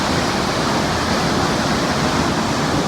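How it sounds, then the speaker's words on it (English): A steady, loud roar of a waterfall in Wadi Mujib, Jordan, constant and unbroken throughout, close by. "you need to jump into a waterfall"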